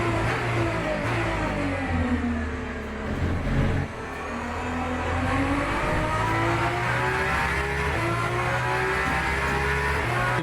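Aston Martin Valkyrie and AMG race car engines roar loudly in a racing video game, holding a sustained high drone with a short dip in revs partway through before climbing again, with no talk.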